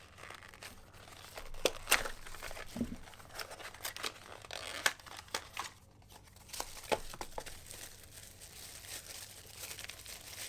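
Packaging for an Insta360 Ace Pro 2 camera is ripped apart by hand, giving close, irregular bursts of crinkling and tearing with short pauses between.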